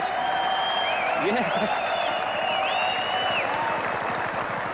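A cricket crowd applauds the West Indies at a 1990 Test match against England, with steady clapping from the stands and a commentator speaking over it.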